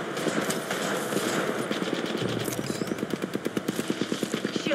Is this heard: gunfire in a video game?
yes